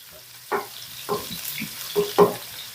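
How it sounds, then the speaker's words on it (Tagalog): Vegetables for beef caldereta fry in hot oil, a soft sizzle broken by several clattering stirs at irregular intervals, close and moderately loud. "iprito ninyo"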